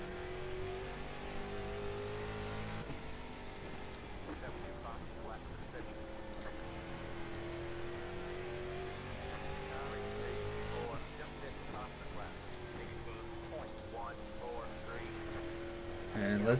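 Street stock race cars lap South Boston in iRacing, their engines droning steadily with shifting pitch as they run in traffic, while a commentator talks over the continuous motor noise.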